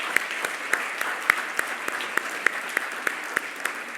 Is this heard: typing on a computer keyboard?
no